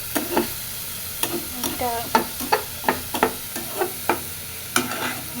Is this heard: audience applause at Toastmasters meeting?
no